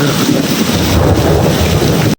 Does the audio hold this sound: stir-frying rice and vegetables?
no